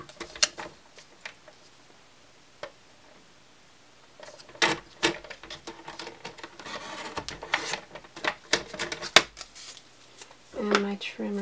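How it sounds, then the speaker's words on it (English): Close, irregular scraping and sliding from a paper trimmer cutting card, with the blade drawn through in short strokes alongside handling noise, and a person speaking intermittently. "And now we're going to trim from the pencil mark"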